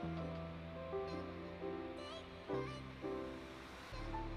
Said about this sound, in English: So I rinse that out.